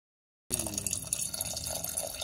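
Rice and fenugreek for multigrain ragi-jowar dosa batter being washed in water, with a steady splashing, dripping wash of water starting abruptly after a short silence and continuing at moderate level.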